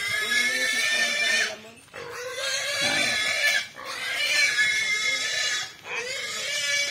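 A farm pig squeals loudly and repeatedly while being weighed, long piercing high cries broken by short pauses, close to the recorder.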